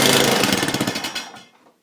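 Small snow blower engine cranking and briefly running after a pull-cord repair, with loud rapid sputtering firing pulses close by that die away and stop within two seconds.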